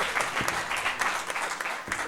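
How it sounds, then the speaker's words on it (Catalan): Audience applause at a Catalan Pastorets nativity play performance in Olot, a dense, steady wash of many hands clapping throughout, fairly close and without talk. "Piqueu de mans, m'ho mereixo!"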